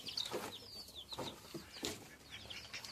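Farm hens cluck and call in short, repeated bursts at moderate distance, with a few sharper chirps over a low yard background and no talk.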